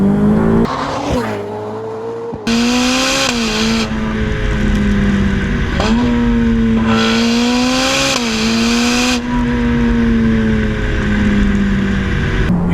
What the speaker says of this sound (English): Tell there's a V8 in there now, which is nice, John, you know?